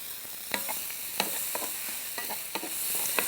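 Vegetables with onion and tomato frying in a pan, a soft continuous sizzle punctuated by several sharp spatula taps and scrapes close by.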